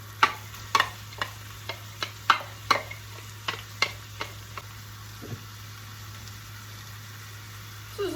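Quiet sizzling of minced meat and chopped onion in a pan with a string of sharp clicks and taps as food is stirred, plus a low steady hum underneath.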